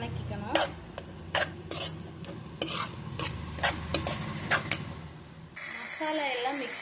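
Spice masala of coriander and chili powder stirred and sautéed in a pan for crab gravy, with repeated sharp scraping clicks of a spoon over a steady low sizzle, close and moderately loud.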